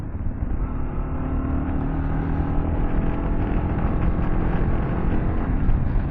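A Kawasaki KLR650 motorcycle engine idles steadily nearby, a continuous low rumble with no breaks and no talking.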